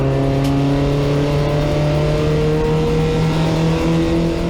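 Porsche 944 race cars battle on track with steady, droning engine notes that hold a constant pitch, loud and close, with no voices over the continuous roar.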